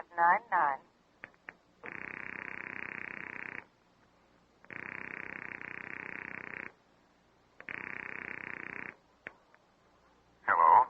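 A telephone line rings in an old radio drama, three long buzzing rings separated by pauses, fairly close and clear, with brief bits of a voice at the start and end.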